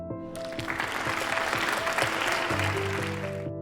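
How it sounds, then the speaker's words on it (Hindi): Applause from Indian officers and their wives at a dinner party rises quickly and holds steady, with music playing underneath, then stops abruptly. "देसी अफसर और उनकी स्त्रियों ने इस सुझाव पर तालियां पीटी"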